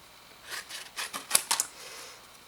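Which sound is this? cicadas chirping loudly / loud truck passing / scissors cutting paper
scissors cutting paper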